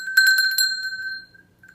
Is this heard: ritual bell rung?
yes